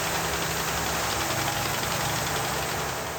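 Engine of a crowded river cargo boat in the Democratic Republic of Congo, running with a steady, loud, dense mechanical drone and a low knocking throb, heard close and continuous throughout.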